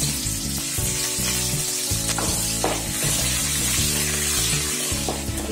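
Urad dal, curry leaves, ginger and green chilies hit hot oil for masala dosa filling, giving a loud, continuous crackling sizzle throughout, close and with no talk over it.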